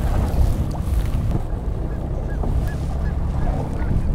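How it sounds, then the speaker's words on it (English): Wild geese honk in short, scattered calls at a distance, set against a steady rumble of wind and an idling boat engine out on the water. "These geese survive the day as it is hunting season."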